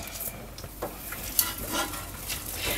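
Onions are stirred in butter in a saucepan, and faint scraping and clinking from a utensil rises over a low, soft sizzle. The sounds are quiet and close, and no one speaks.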